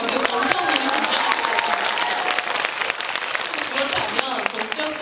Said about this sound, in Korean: 감독님 박수 한번 부탁드릴게요